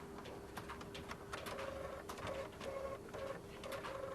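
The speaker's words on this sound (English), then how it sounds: "That prints the reference out on the printer" A printer prints out a reference, giving quiet, repeated mechanical whirs and chattering bursts at a steady pace, heard alone without any talking.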